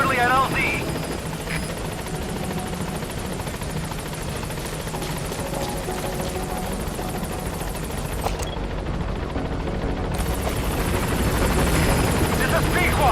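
B-Quad support helicopter in Metal Gear Solid V: The Phantom Pain approaching a landing zone, its rotor drone steady and loud throughout, with a radio-style voice speaking over it.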